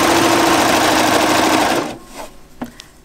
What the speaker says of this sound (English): So I want to start sewing here from the armhole this time. I'm going to stitch off at the basting.